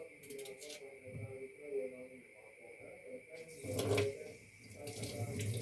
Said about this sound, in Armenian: բանջարեղենը շատ եմ սիրում հոսող ջրի տակ մաքրել, լվանալ երևները